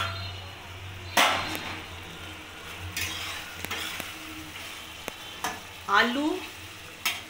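Potatoes and ridge gourd are stirred in a sizzling pan, with a steady frying hiss under scraping spoon strokes and clinks against the metal. A voice speaks briefly.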